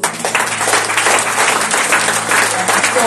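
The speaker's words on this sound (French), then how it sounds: "Est-ce qu'on peut acclamer?" A church congregation at a Sunday French-language service applauds steadily and loudly, a dense continuous clapping that fills the whole moment.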